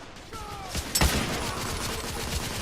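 Gunfire in the video game The Order 1886, a sharp loud shot cracking out about a second in over a dense, rumbling bed of battle noise.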